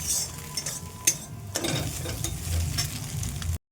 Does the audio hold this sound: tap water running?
no